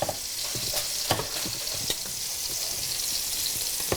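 Chicken browning in a frying pan for an Italian brandy tomato cream sauce: a constant hiss of oil with light crackles and pops scattered through it, close up, with no voices.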